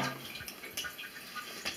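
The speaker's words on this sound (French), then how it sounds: "Ça, c'est une fuite de chasse d'eau. Alors ça coule sans arrêt." Water trickling constantly from a leaking toilet cistern flush valve, a faint, continuous running flow with small drips and splashes, heard close up with no talking.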